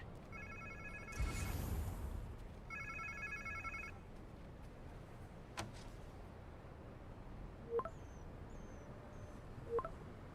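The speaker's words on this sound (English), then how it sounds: "Sounds like somebody's phone." A repeating electronic phone ring in Marvel's Spider-Man 2 plays in two bursts, with a thud and sparse game noises afterward.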